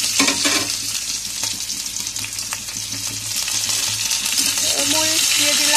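Onions sizzling in hot oil with bay leaf and cumin for a brinjal dish, a loud steady frying hiss with occasional stirring clinks close by, no speech.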